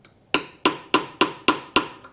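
Six sharp hammer blows on a punch drive a crankshaft seal home on a Yamaha Twin Jet 90/100 outboard, evenly spaced and close, each a bright metallic strike with a short ring.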